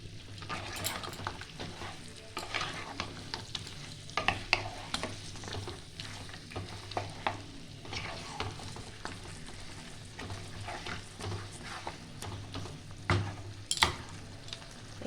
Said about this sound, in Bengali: এবার ভালো করে এটা আমি নাড়িয়ে চাড়িয়ে নেব।